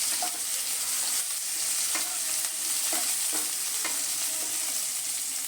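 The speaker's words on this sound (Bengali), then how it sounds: "ভালো করে নেড়ে চেড়ে কাঁচা লঙ্কাটা আমি ভেজে নেব।" Green chillies fry in hot oil in a pan, a steady close sizzle broken by regular scraping stirs of a spatula, with no talking.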